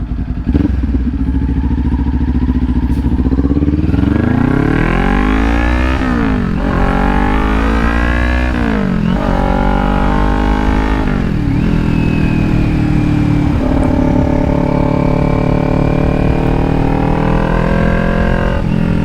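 A Kawasaki Ninja 400 motorcycle is ridden, its engine loud and close, rising and falling in pitch through repeated revs and downshifts, with rushing wind throughout.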